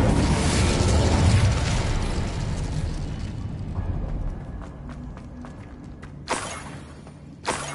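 An Incendio fire spell cast in Hogwarts Legacy, a loud whooshing fiery burst that roars and fades over several seconds, followed by scattered crackles and two short sharp bursts near the end.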